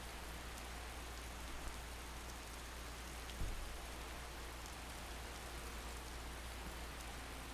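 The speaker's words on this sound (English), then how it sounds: "Of course it's raining." Rain falls steadily in the Fallout: New Vegas game world, a soft, even hiss with no break and no talking.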